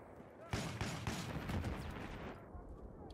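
Rapid shotgun blasts from a DAO-12 in a Battlefield game, a quick run of heavy booming shots at mid distance, fairly faint and muffled, fading into quieter game ambience.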